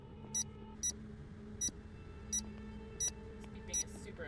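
Electronic beeping in the video game Nancy Drew: Mystery of the Seven Keys, short high bleeps repeating about every 0.7 seconds over a quiet low hum, fairly faint.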